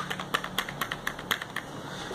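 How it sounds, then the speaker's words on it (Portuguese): Typing on a Redragon Kumara mechanical keyboard, a string of crisp, close key clicks in an uneven rhythm, about eight or nine distinct strikes over a low background hiss. "Ele não é um teclado tão barulhento quanto aquele de switch azul."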